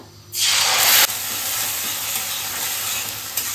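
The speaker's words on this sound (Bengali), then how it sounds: "তেলটার মধ্যে দিয়ে দিচ্ছি টমেটো পেস্ট করা" Tomato paste hits hot oil already holding cumin seeds and Kashmiri chillies for a spinach egg curry, bursting into a loud, steady hiss that starts abruptly and keeps sizzling close up.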